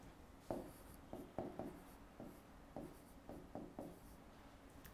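Pen or pencil writing out German verb endings by hand in a language lesson, heard as a series of short scratchy strokes in irregular bursts, close and fairly quiet, with no talking.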